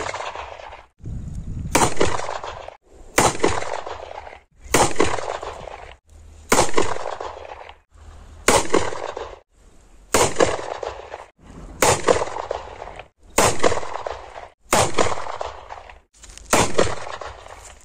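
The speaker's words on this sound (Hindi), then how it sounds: "अभी ये है हमारा पहला पटाखा और इसके बाद लगातार 10 पटाखे फूटेंगे।" A homemade spring-loaded potash gun fires ten caps one after another, each a sharp, loud bang with a short ringing tail, spaced at an even rhythm of roughly one shot every one and a half seconds.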